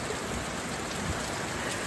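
Steady rain falls and patters on surfaces outdoors as an even, dense hiss with no voices.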